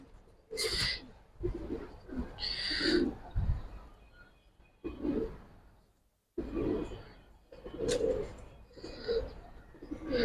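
A female Giribaz silver pigeon coos while held in the hand, with several close, low, throaty coo phrases repeating in bursts and a brief pause partway through.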